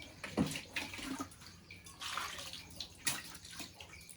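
Freshly caught fish being washed in water, with irregular soft splashes and sloshing, fairly close and quiet, with brief pauses between movements.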